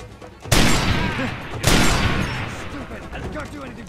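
Enemy firing a big gun in Far Cry 2, two heavy loud blasts about a second apart, each with a booming decay and rattling debris behind it.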